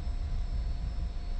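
Aircraft engine drone in the flight simulator DCS World, a steady low rumbling roar that stays even and fairly loud throughout the short stretch with no talking.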